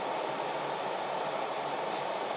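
Steady low engine drone heard from inside a Toyota GR86 fitted with an aftermarket muffler, muffled and even, with a constant broadband hum and no talking.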